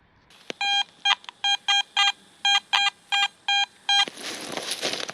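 Metal detector signal beeping in a field where relics are being dug, about ten short sharp electronic tones in an uneven rhythm, loud and close, followed by a rush of rustling noise.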